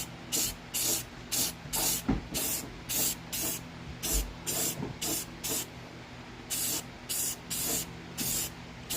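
Short bursts of spray paint from a rattle can hiss one after another in a steady rhythm, coating a Mustang in a garage, close and fairly loud with brief pauses between passes.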